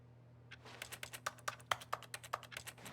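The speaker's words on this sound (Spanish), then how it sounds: "Cuando pulsas el botón y no hay nada, pues suena el tecleo." Keyboard typing sound effect from The Stanley Parable: Ultra Deluxe, triggered by pressing a button. Soft, quick key clicks rattle off in an uneven burst of about a dozen taps over a low steady hum, quiet and close.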